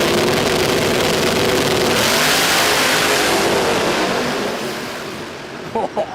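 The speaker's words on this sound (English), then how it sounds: "Did you hear all that engine, folks?" Pro Mod drag racing car at full throttle at the Garrett Sydney Jamboree race day, a loud roaring engine blast that holds for several seconds then fades as the car pulls away down the strip.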